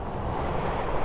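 An outdoor river rushes in a steady, broad wash of water noise, close and moderately loud, with some wind buffeting the microphone.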